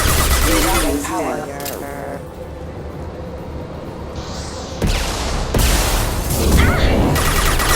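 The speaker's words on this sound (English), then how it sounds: "Enemies in front! Taking fire!" Bursts of gunfire and crashing impacts in Mass Effect Legendary Edition combat, loud sharp volleys broken by quieter stretches, with voices calling out over the fighting.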